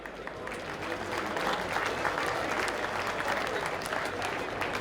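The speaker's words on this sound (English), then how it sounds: "big round of applause for the PR team and Juvenile CCC" Sustained crowd applause after a Monaghan club football Division 1 final between Castleblayney and Carrickmacross, a steady dense wash of clapping with some cheering throughout, fairly loud and continuous.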